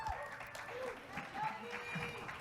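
Audience applause from part of a live crowd at a real estate seminar, a steady broadband clatter of clapping that runs for a couple of seconds with voices talking over it.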